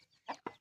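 Chickens give a few short clucks, close and fairly faint, while being fed onions, with no voices over them.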